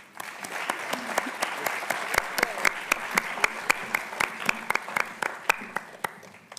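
Sustained audience applause at a college awards evening as winners leave the stage, dense clapping from a crowd with prominent close claps punctuating it throughout.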